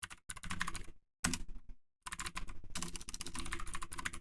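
Rapid clicking of a computer keyboard as a password is typed, in several close bursts with a couple of short pauses between them, no voice over it.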